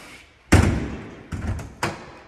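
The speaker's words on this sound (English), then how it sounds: "shut your door" A door on a 2022 Jayco Eagle 321RSTS fifth-wheel RV is pushed shut with one solid thud, followed by two lighter knocks and rattles, close by.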